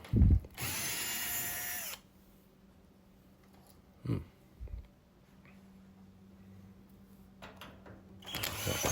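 A power screwdriver removing Phillips head screws from the tumbler front panel of a Maytag Neptune clothes dryer, with a loud whirring burst near the start, then short clicks and knocks, a quiet gap, and another whir at the end.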